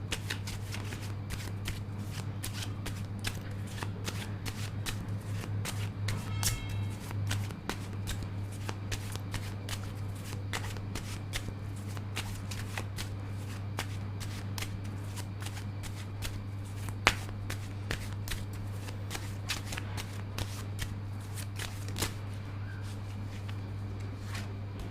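Tarot cards are riffled and shuffled over and over in quick, crisp bursts of flicking and snapping, close and fairly quiet, above a steady low hum, with no talking.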